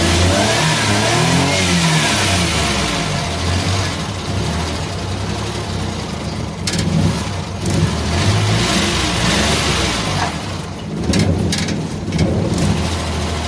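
A Rolls-Royce car engine revs hard and close, a loud sustained roar that rises and falls in waves with rough rattling bursts over the top.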